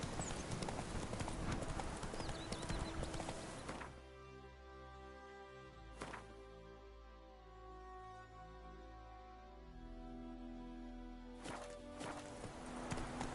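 A horse's hooves clip-clop at a walk in the video game The Witcher 3, steady and fairly close. The gait breaks off midway and resumes near the end over ambient game sound.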